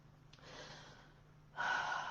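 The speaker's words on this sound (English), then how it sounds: "So that just means breathing in and breathing out." Breath drawn in and let out during a mindfulness exercise, an airy breath close to the mic that swells into a louder, rushing exhale near the end.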